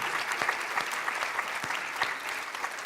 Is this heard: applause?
yes